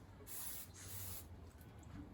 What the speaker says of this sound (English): And then I'll spray a little bit on each side.